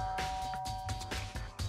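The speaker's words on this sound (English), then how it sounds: "Press the doorbell." Doorbell chime in the Danganronpa: Trigger Happy Havoc video game, a short quiet electronic ding-dong tone lasting under two seconds, heard alone.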